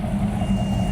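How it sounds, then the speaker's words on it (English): A golf cart's backup alarm beeps steadily over a low idling engine rumble outdoors at a charity car show. "it was a backup alarm on something. Probably a golf cart."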